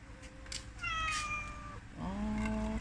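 A cat gives two drawn-out meows close by, the first long and falling, the second shorter and rising, over a steady low background hum.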